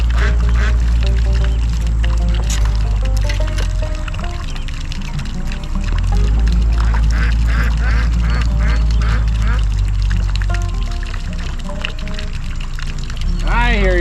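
Ducks quack repeatedly and loudly close by at a backyard pond, over steady running water at the spillway, while people talk nearby.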